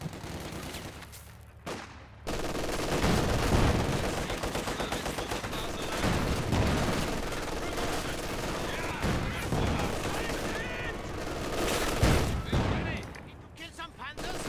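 Gunfire from the video game Company of Heroes 2: dense rifle fusillades and machine-gun bursts rattle continuously, with a voice talking throughout.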